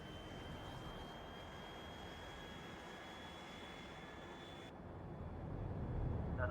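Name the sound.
airplane flying in the video game Factorio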